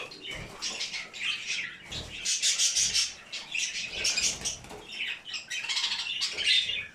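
Budgerigars squawk and chatter loudly while fighting over food, in rapid, overlapping bursts, with fluttering wings, a busy close-up flock squabbling.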